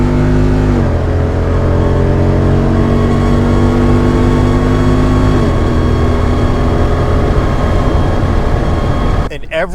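Loud, close engine roar from a 392 V8 held near red line during an off-road drive, with rising and falling harmonic tones as the revs shift and a sharp clatter at the very end.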